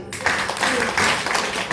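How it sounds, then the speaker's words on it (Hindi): An audience at a Shiv Mahapuran religious discourse claps together in a short burst of loud, close hand claps, with voices mixed in. "बजाओ 3 ताली,"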